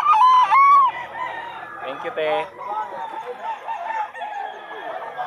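White chickens at a pet market in Bulacan give two short, loud crowing and clucking calls up close, followed by further fowl noises and a brief exchange of voices.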